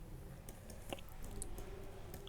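Quiet clicking of keys on a Mac keyboard as a short terminal command is typed, a handful of soft irregular taps with a pause in between.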